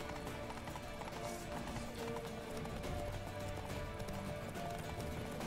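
Rapid hoofbeats of a galloping horse in the video game The Witcher 3: Wild Hunt drum steadily and fairly loud, with a faint whinny among them and no talking.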